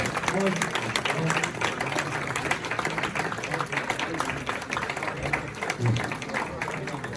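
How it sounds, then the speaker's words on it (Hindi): Audience applause at a mushaira poetry gathering held by a Pakistani-American society, a steady dense clapping that runs throughout with some voices mixed in. "बहुत तालियां आरिफ खान के लिए"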